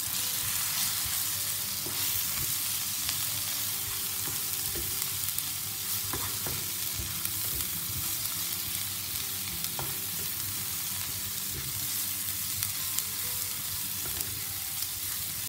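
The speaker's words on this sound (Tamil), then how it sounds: "ஸோ நல்லா மிக்ஸ் பண்ணி விட்டுக்கோங்க." Spices with turmeric powder being stirred in a hot frying pan for South Indian fish curry, a steady sizzle and fry with soft scraping stirs running continuously at close range, no voices.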